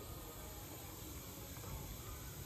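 Mustard seeds, cumin and turmeric go into hot oil to temper a raw mango dal, giving a steady, even sizzling hiss that holds at a constant level throughout.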